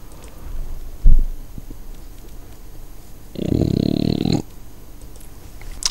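A big yawn, a loud breathy drawn-out exhale lasting about a second, preceded by a brief thump and followed by quiet room noise.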